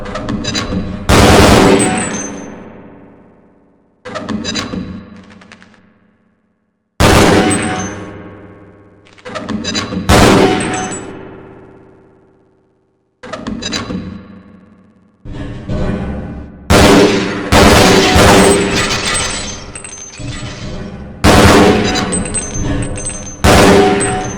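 Loud gunshots on a training target range in Half-Life: Blue Shift, with single heavy reports and quick bursts, each followed by a long ringing decay and metallic clangs, separated by brief silences.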